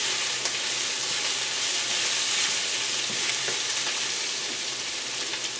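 Kielbasa with garlic powder being stirred in a pan, a steady close sizzle of frying with soft scraping from the stirring running throughout.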